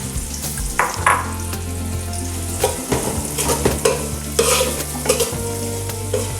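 Curry leaves and onions sizzle in hot oil in a pan as they are stirred, giving a steady crackling hiss broken by scraping and clattering strokes, over a low constant hum.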